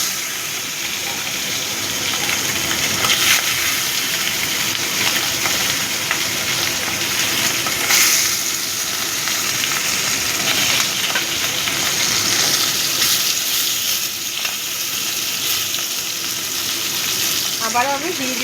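Onions frying in a pan for a fish-head mung dal: a loud, continuous close sizzle that stays even and unbroken for the whole stretch, with no talking over it.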